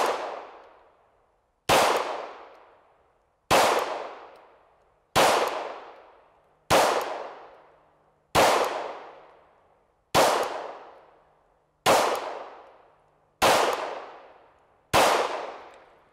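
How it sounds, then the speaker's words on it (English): Ten sharp shots from a Glock 17 Gen 4 pistol at a shooting range ring out loud and close at an even pace, each crack dying away before the next. "All right, let's just keep shooting."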